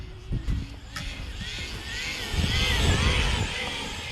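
An Arrma Vorteks 3S BLX RC car runs at full throttle through grass, a steady buzzing motor whine that swells as it passes nearby, with no talk over it.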